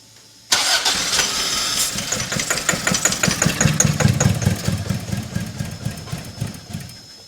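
Toyota AW11 MR2 from an abandoned 46k-mile car cranks with throttle held open and brake clean sprayed in, a loud rapid starter churn with uneven firing pulses that sputters for several seconds without catching cleanly.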